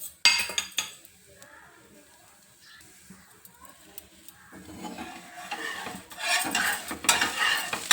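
A ragi dosa cooks on a pan with a couple of drops of oil, giving soft sizzling broken by scraping and metal clinks of a spatula, the sizzle building louder toward the end.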